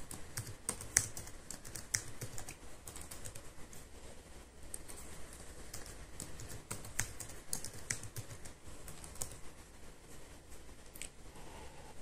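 Rapid, irregular keystrokes as a password is typed on a computer keyboard, close and fairly quiet, continuing steadily with no talk.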